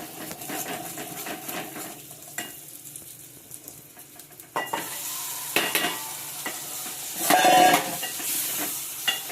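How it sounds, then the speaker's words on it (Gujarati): Hot oil sizzles and crackles loudly as boiled mung beans are tempered and stirred in a pan, with scraping and bursts of spattering, close up and without speech. "મમ્મી વઘાર કરશે ફરી વાર."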